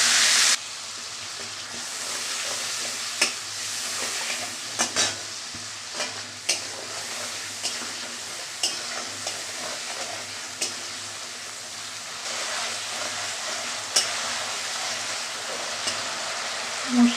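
Ginger-chili spice paste with turmeric, cumin and bay leaf frying in a pan while being stirred, a steady close sizzle with scattered scraping clicks of the spoon throughout, no talking.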